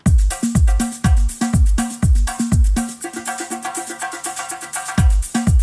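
Trance track with a pumping four-on-the-floor kick, then a bar where the kicks drop out, leaving only synths and hi-hats, before the kick returns with full impact; loud, with no voices.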